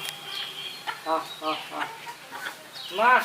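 Several chickens clucking nearby in short, irregular bursts, with a louder squawk near the end.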